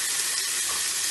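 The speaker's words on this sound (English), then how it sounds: "You want to hear that sizzle?" Steak sizzles hard in a hot frying pan, a loud, dense, continuous hiss heard up close and uninterrupted through the short moment.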